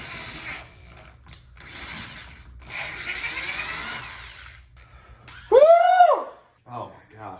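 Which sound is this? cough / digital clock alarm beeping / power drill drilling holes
power drill drilling holes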